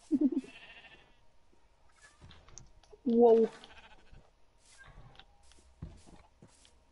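Sheep bleating in Minecraft, two or three short wavering bleats among quiet game sounds, with a brief spoken exclamation between them.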